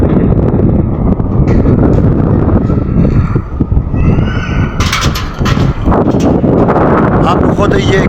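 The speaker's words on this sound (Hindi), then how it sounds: "कैसे हवा चल रही है।" Strong wind gusts loudly and steadily across the microphone outdoors in the mountain town of Naran under cloudy weather, someone talking over the roar.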